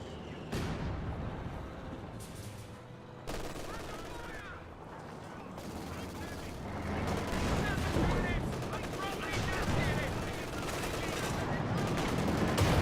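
Tank main-gun fire in the WWII strategy game Company of Heroes 2, a Cromwell firing on a Panzer IV amid a continuous battle din of gunshots, bursts and impacts that swells louder toward the end, with a commentator's voice woven through.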